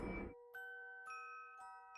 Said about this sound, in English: It's just a bell.